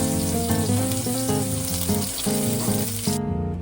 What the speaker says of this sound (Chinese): 爆香蒜米，翻炒均匀。